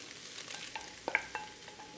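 Fried rice being stirred in a pan, with soft scraping and a faint sizzle and a few sharper clinks of the utensil against the pan, quiet and close with no voices.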